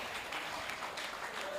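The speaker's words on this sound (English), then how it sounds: "Please, a round of applause for her." Applause from the audience at a secondary-school workshop, a steady, fairly faint patter of many hands continuing through the short stretch without a break.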